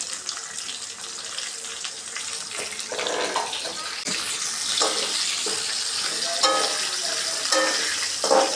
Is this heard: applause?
no